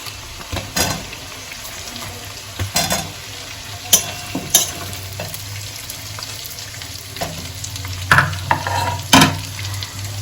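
Separated onion petals hit a hot pan for restaurant-style chilli chicken, setting off a steady close sizzle of frying, broken by the scrape and clatter of stirring in scattered sharp knocks.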